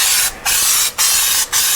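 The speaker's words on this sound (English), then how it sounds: "Loctite spray adhesive." Loctite spray adhesive hisses from an aerosol can onto a new engine sound pad for a Porsche 912, in three loud, steady bursts separated by brief pauses.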